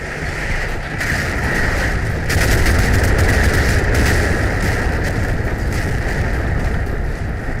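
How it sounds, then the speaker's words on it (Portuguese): Naval bombardment in a World War II combat game set during Operation Husky at Gela, a dense continuous roar of distant explosions and rumbling blasts, steady and loud throughout with no individual bursts standing apart and no voices. "O bombardeio das forças navais é intenso e arrasador."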